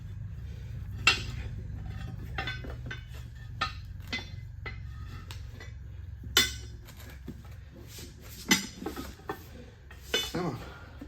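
Steel tire spoons clink against the rim while a rear tire is changed on a Honda VTX 1300 motorcycle, giving scattered sharp metallic taps and scrapes over a low steady background hum.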